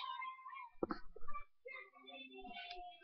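A pet cat meowing indoors in a bedroom, a couple of clear close meows with a brief rustle between them, near and fairly quiet.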